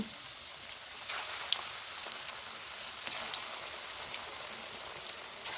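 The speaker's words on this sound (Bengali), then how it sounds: "আবারও বেসনের মধ্যে ডুবিয়ে তেলের মধ্যে ছেড়ে দিচ্ছি" Cauliflower pakoras coated in gram flour batter fry in hot oil, a steady close hiss with small scattered pops and crackles throughout.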